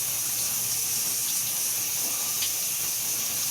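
Warm shower water runs steadily while conditioner is rinsed out of hair, a continuous close hiss of spray and splashing with no talking.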